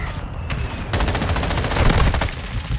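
Rapid bursts of M13B rifle gunfire from the video game Modern Warfare 2, continuous dense shots for nearly three seconds, loud and close, starting sharply after a brief lead-in.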